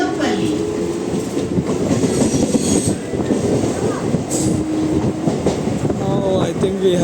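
MMTS suburban train on its inaugural run between Ghatkesar and Lingampalli, heard from inside as a loud, continuous rumble with rhythmic wheel clatter and occasional squeals, with faint voices in the background.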